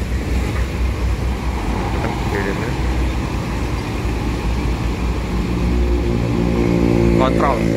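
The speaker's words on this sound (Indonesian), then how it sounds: "Oh lagi ini cek mesin." A Sipirok Nauli bus diesel engine warms up in the morning with a steady, close low rumble that holds throughout and grows slightly louder near the end, while voices are faintly heard nearby.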